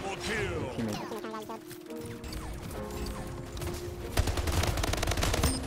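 Rapid bursts of gunfire from the online shooter Splitgate ring out, dense and continuous over mechanical weapon clatter and game effects, running loud for several seconds.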